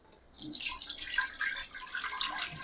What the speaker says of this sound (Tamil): குக்கரை வச்சு இதில் கொஞ்சம் தண்ணி ஊற்றிக்கலாம்